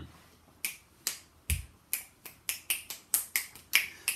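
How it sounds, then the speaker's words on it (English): A run of about eleven crisp, close finger snaps, starting sparse and quickening into a steady rhythm, with nothing else audible between them. "I'm snapping my fingers hoping that it'll stimulate my mind."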